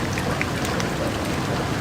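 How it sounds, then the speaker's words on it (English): Steady, dense rainfall in the video game Deus Ex: The Nameless Mod, a continuous hiss of drops with no other sounds over it. "First, everything is soaked by this incessant rain"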